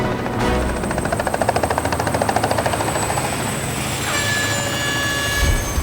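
A helicopter flies over the Herbert valley, its rotor blades beating in a fast, pulsing chop over a constant engine whine, loud and close before the thumping eases and the turbine tone carries on alone.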